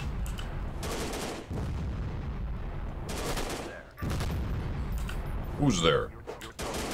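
Bursts of gunfire from a video game come in several loud volleys, with a voice briefly talking in between.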